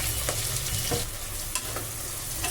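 Onion sizzles in hot oil inside a pressure cooker as chicken biryani is made, a dense continuous frying hiss with faint stirring scrapes and no talk.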